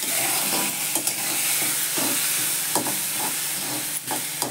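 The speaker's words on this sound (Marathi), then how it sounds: "कांदा परतला त्याच्यात मी हळद घालते" Onion sizzles and hisses steadily in a hot pan with turmeric and salt, with occasional scraping stirs against the pan.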